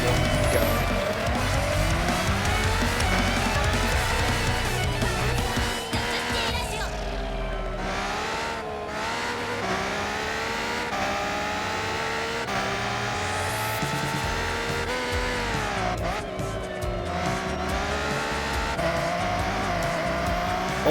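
Nissan R32 race car in Forza Horizon 6 revving hard and drifting, a loud continuous engine roar rising and falling through gear changes with tire squeal, as someone talks over it.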